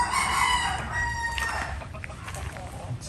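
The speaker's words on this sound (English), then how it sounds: "you got the rooster there just saying hi to them" A rooster crows once near a simple chicken coop in the rural Philippines, a loud close call that tails off into faint background noise.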